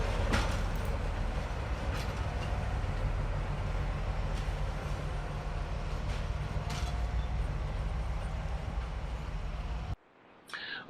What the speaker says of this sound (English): I did see this passing loco calling what I think was some kind of mobile laboratory